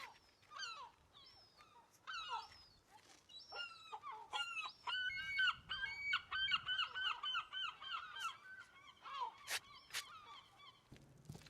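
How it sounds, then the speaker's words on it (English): Gulls call repeatedly near a seaside home, a noisy chorus of harsh honking cries and squawks overlapping in rapid bursts, loud and close with faint background noise. "Anyone out there have seagulls?"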